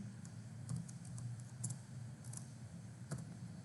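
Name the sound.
typing on a computer keyboard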